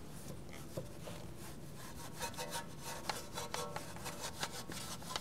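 A damp wheel woolly loaded with Adam's Deep Wheel Cleaner scrubs brake dust from the barrel of a car wheel, making steady close rubbing and swishing strokes with small scraping ticks, fairly quiet and without speech.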